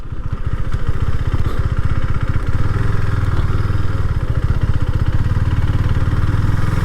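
A 2021 KTM Duke 390 BS6 motorcycle engine runs steadily nearby with a loud, continuous throb and a rhythmic low-pitched pulse that slightly shifts partway through.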